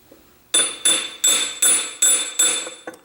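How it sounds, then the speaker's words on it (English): A hammer gently taps piston assemblies with high-pressure rings and wrist pins into an engine: about seven sharp metallic taps in a steady rhythm, close and fairly loud, each with a brief ringing clink, and no talking. "I'm going to hammer for very gently."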